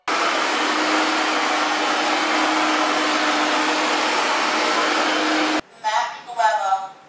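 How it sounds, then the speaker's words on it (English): AIRROBO P10 robot vacuum cleaner in strong suction mode gives a steady, loud motor whine and airflow hiss for several seconds, then cuts off abruptly before a person speaks. "Then we have a strong suction mode with a power of 1500 Pascal and the noise level is 57"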